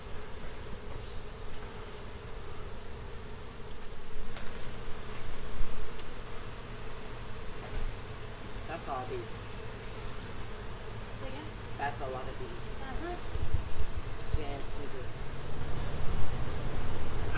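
Honey bees buzz steadily around an opened hive during a difficult hive removal, a dense close drone with individual bees zipping past, and faint voices talk in the background.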